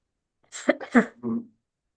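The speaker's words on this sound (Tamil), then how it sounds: "அந்த இருமல் வர்றது நல்லதுதான்." A single cough during a kriya yoga breathing session, a short close burst of two or three hacking pulses followed by a brief voiced rasp, standing alone in an otherwise quiet room.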